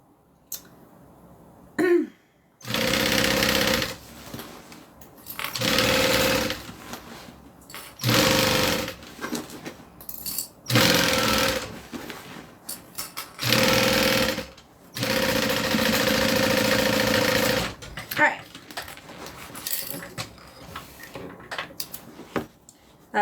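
A sewing machine stitches a bag in repeated bursts of steady whirring, each lasting a second or two, separated by short pauses and small handling clicks, loud and close.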